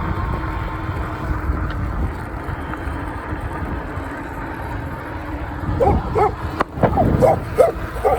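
Dogs barking outdoors near a moving e-bike during a long ride, several sharp barks arriving in a burst near the end over a steady rumble of wind and road noise.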